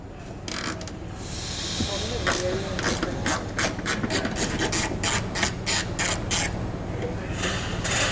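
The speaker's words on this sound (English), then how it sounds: "So this top one's going to come completely out. So take a 10mm socket." A ratchet fitted with a 10mm socket works a bolt loose on a 2019 Ford tailgate, giving a long run of rapid, close metallic clicks in bursts under steady background hiss.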